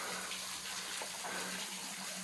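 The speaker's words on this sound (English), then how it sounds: "We literally have a waterfall here." A small waterfall in Red River Gorge gives a steady, even rush and splash of falling water that continues without a break, with no voices over it.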